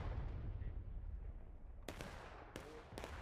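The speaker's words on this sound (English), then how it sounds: "This cannon's shooting too." Cannon fire in the Civil War video game War of Rights: a low rumbling background broken by three sharp broadband booms, fairly close, with no talking.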